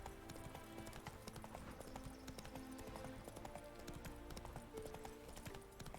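Hooves of the horse Roach beat out a quick, steady galloping clip-clop in the video game The Witcher 3, fairly quiet and mixed with game ambience, with a brief neigh.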